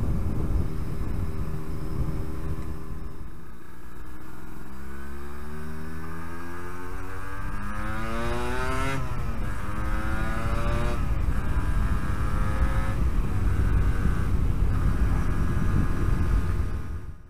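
A Yamaha RD 125 LC YPVS motorcycle heard while riding, its engine note climbing in rising sweeps as the revs build and drop between gears, loud and continuous throughout.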